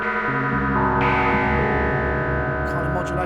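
A buzzing Dave Smith Instruments OB-6 Desktop synthesizer tone, under audio-rate cross modulation, gets harsh, metallic sidebands and wobbles as its pitch and timbre shift, continuous and loud with no pauses.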